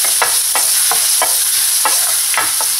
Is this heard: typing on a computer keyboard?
no